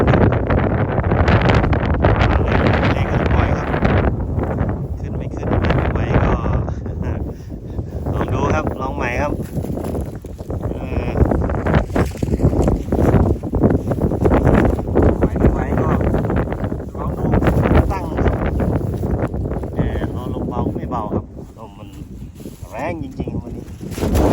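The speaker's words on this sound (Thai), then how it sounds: "ก็ไม่เบาครับลมยังแรงเหมือนเดิมครับ" Strong gusty wind roars and buffets the microphone while a large Thai chula kite is flown in England. The rushing sound surges and eases in waves throughout, and occasional voices are mixed in.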